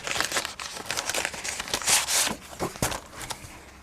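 Plastic product packaging crinkles and tears as craft items from a haul are unwrapped, loud close rustling and crackling in irregular bursts with a few sharper rips, no talking.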